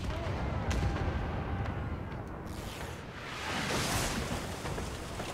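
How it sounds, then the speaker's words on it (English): Ship cannons loaded with grape shot fire in a naval battle in Pillars of Eternity 2: Deadfire, heard as heavy rumbling blasts and crackling within a loud wash of battle noise. "Let's change to grape shot."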